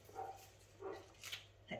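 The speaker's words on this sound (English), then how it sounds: "That's the dog barking." A dog barks indoors in a few short, quiet yips that sound faint and somewhat distant, heard while flowers are being arranged.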